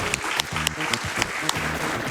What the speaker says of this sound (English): Give it a clap, please.